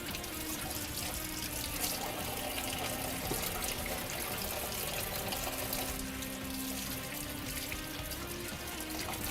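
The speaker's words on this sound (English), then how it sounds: "I'm gonna wash my hands now real quick." Hands are washed under a running kitchen tap, a steady, fairly quiet hiss and splash of water flowing continuously with small shifts as the hands move through the stream.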